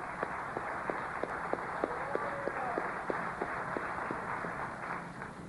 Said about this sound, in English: Just give our brother a round of applause.